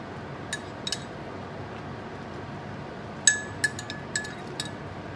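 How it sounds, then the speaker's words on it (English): Seasoning is stirred into yellow rice with pigeon peas in a pot, heard as a few sharp metallic clinks of a utensil against the pot, scattered and close over a soft background hiss. "you can just stir it right in there"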